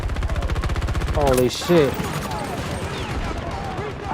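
Rapid sniper and automatic gunfire from a video game battle, loud bursts of repeated shots with a brief heavier blast, while a player exclaims over the shooting.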